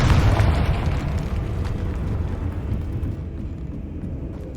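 Confringo blasting spell detonating in the Hogwarts Legacy video game: a loud, deep explosive boom with heavy low rumble that rolls on and slowly fades over several seconds, no voices over it.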